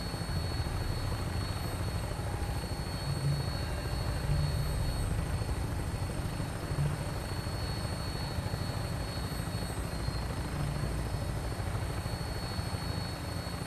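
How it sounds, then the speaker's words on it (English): Steady, droning engine hum of an airship flying over Boston Airport in Fallout 4, a continuous low rumble holding level throughout with no talking. "Some airship. Zeppelin. There she is."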